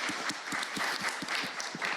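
Dense, steady applause from an audience at a parliamentary forum on democratic stability in wartime, a close, continuous wash of many hands clapping for about two seconds.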